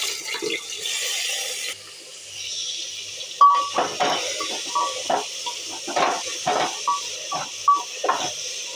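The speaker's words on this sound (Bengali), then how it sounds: "সয়াবিন আর আলুটা আমি ভালোভাবে ভেজে নেব" Marinated soybean chunks and potato pieces fry in a pan, giving a steady wet hiss broken by repeated short scraping bursts from stirring, close and moderately loud.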